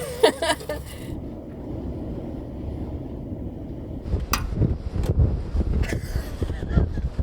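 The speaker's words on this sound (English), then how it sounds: "Don't know if you can hear this wind, but it's windy inside the van." Wind roars and buffets steadily around a camper van, heard from inside, with sharp rattles and knocks around the halfway point and toward the end.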